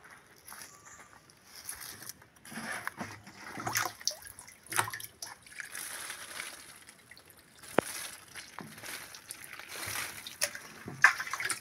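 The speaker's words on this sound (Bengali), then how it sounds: "এটা ড্রামে গিয়ে এখন একটু ধুয়ে নিয়ে আসি।" Water from a drum is splashed and trickled over a muskmelon grown in the Andaman Islands to wash the soil off it. The sound is soft and intermittent, with drips and light sloshing and no talk.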